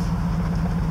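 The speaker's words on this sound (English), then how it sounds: "Oh, horn works." The horn of a 2008 Toyota Tundra pickup truck sounding in one sustained, steady blast, loud and close, with no break.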